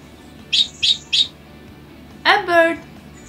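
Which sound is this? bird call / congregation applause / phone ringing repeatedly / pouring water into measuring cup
bird call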